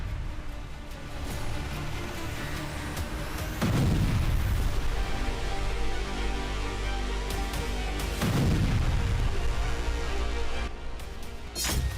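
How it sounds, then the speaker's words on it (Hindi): Missile strikes hit a weapons factory in Kharkiv, and the clip carries two heavy booming blasts a few seconds apart, each swelling out of a constant low rumble. No one speaks. "फिर सटीक लोकेशन के साथ मिसाइलें दाग दी गईं और धमाकों में यूक्रेनी हथियार फैक्ट्री भस्म हो गई।"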